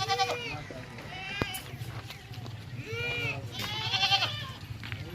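Goats at a livestock market bleat repeatedly, with several wavering calls close by over a steady low background hum and murmur of voices.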